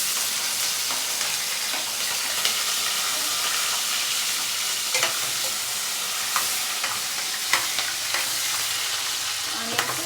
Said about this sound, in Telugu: కొంచెం బ్రౌన్ కలర్ లాగా ఫ్రై చేసుకోవాలి మంచిగా